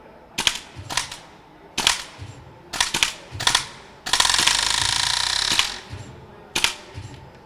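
Sharp rifle gunshots crack one after another at irregular intervals, with a longer roaring burst in the middle, loud and close in an open outdoor space.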